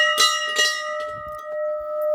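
A temple bell rung at a mountain shrine in Uttarakhand, two bright metallic strikes close together near the start followed by a long sustained ringing tone that slowly fades.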